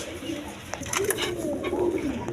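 Colouring Raj Golla pigeons in a cage give soft, rolling coos, close by and continuous, with faint background noise.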